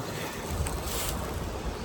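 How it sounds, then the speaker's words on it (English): A small waterfall and babbling brook beside a hiking trail on the Appalachian Trail give a steady, dense rush of water, close and continuous, with no talking. "There's beautiful there's a little waterfall right over on the other side of the rock there. A babbling brook, creek, whatever you want to call it."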